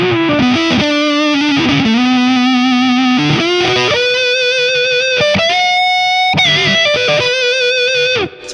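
A heavily distorted electric guitar through a Roland Double Beat AD-50 fuzz-wah plays sustained notes with a buzzy, square-wave fuzz tone, shifting pitch between held notes, loud and alone.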